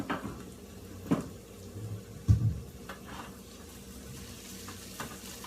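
Vegetables sautéing in a pan, giving a soft steady sizzle broken by a few sharp knocks and clatters from stirring and handling the cookware, close and fairly quiet, no one talking.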